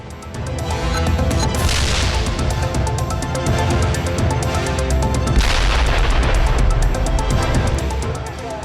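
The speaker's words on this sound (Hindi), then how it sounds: "गाजा में इजरायल ने ताबड़तोड़ हवाई हमलों को फिर से अंजाम देना शुरू कर दिया है।" Explosions and gunfire from Israeli air strikes on Gaza, a loud sustained roar of blasts and crackling shots, with two sharp surges of impact noise standing out over dense rumbling.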